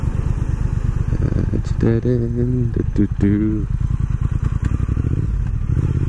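A 2019 Triumph Speed Twin motorcycle rumbles steadily on a test ride, its engine a loud, low, continuous throb close to the rider. Someone speaks briefly over the engine noise.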